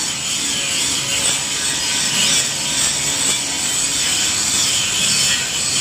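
Heavy grinder cutting a stainless steel anchor, a loud, steady, unbroken abrasive whine and rasp that holds at the same level throughout with no voices.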